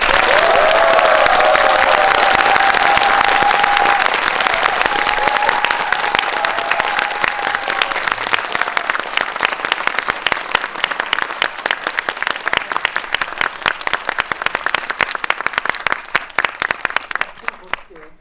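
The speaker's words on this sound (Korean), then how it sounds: "입장하실 때 진짜 큰 환호와 박수 부탁드릴게요." A dense crowd of audience members bursts into loud applause and cheering as a film director walks into a cinema hall for a movie screening talk, the clapping sustained and gradually thinning out over many seconds.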